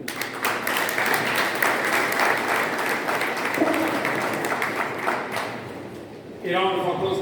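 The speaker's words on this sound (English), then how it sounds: "A round of applause, ladies and gentlemen." Audience applause after a speech at the official opening ceremony of Lady Enereta International High School, dense and steady clapping from a large gathering that ends as a voice starts speaking.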